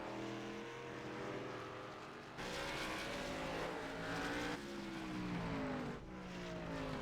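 A race car running down the backstretch into turns 3 and 4 on a race track: a loud, continuous engine roar rising in pitch through each gear, dropping at each shift, heard steadily without talking.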